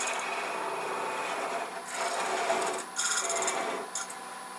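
A flush cut saw rasps back and forth through a wooden birdhouse base in several short, close strokes, a scratchy grinding that starts and stops.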